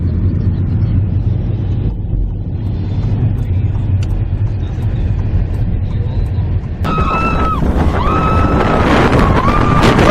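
Car pulling away from a Days Inn hotel in Monroeville, a steady, loud low road rumble inside the cabin, with people talking over it partway through.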